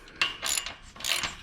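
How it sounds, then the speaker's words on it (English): A 3/4 inch ratchet snugging up bolts on chain link bi-fold swing gate hardware, giving a few short clicking, ratcheting bursts close by, with brief pauses between strokes. "take these and tighten them up. Yourself 3/4 inch ratchet. I just like to snug it up on both sides."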